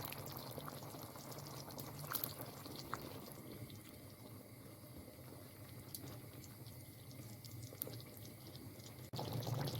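Potatoes dropped into tomato juice boiling in a pot, with steady bubbling and a watery, splashing wash throughout, a few brief clinks and pours near the middle, and a louder burst at the very end.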